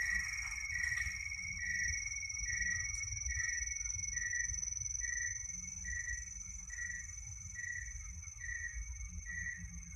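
Crickets chirping outdoors in a steady, evenly pulsed rhythm, faint and distant over a low background hum, with no talking.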